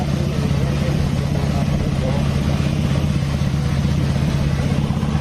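A Honda Beat motorcycle engine runs after being repaired, a steady, rapid low idle throb close by, with faint voices in the background.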